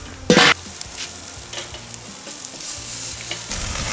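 Lamb chops sizzle over hot charcoal on a barbecue grill, opening with a sharp loud burst as they hit the grate, then settling into a steady low crackle.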